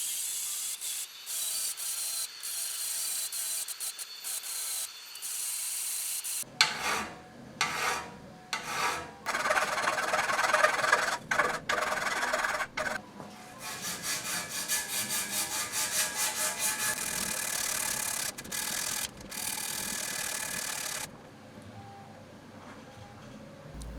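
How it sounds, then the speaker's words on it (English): A hand file worked over a steel bicycle frame tube in a workshop, bursts of rasping strokes in uneven runs with short pauses between them, close and fairly loud. "I gradually move to less aggressive tools like a hand file"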